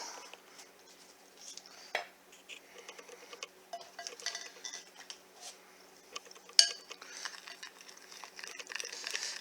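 A spoon stirs puppy chow (muddy buddies) mixture in a bowl, giving soft, irregular scraping and light clinks, with one sharper knock near the middle, all fairly quiet and close.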